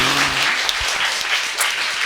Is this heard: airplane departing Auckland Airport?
no